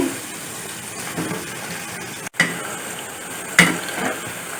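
Wheat flour pakodas deep fry in hot oil, a moderate continuous bubbling sizzle broken by a short cut and a couple of utensil clinks against the pan.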